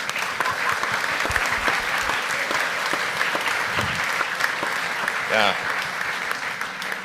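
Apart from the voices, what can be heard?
audience clapping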